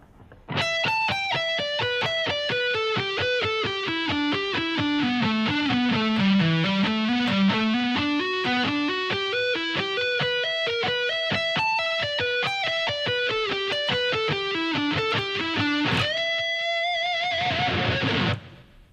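Distorted electric guitar plays steady, flowing arpeggios at a slow tempo, sweeping down and back up, ending on a bent note and a noisy, ringing finish.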